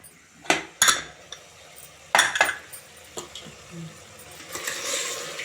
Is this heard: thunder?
no